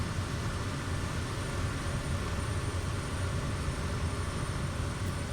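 Steady propeller-plane engine drone from a video game in which the player flies over northwestern Iceland, a continuous even hum holding at moderate level throughout with no break.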